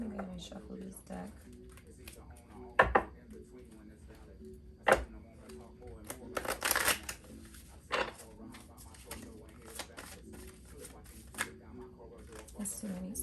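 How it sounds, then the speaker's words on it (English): Deck of tarot cards shuffled during a reading, with soft riffling and sharp slaps and taps recurring irregularly at close range, while a person talks throughout. "Let me go ahead and shuffle this deck."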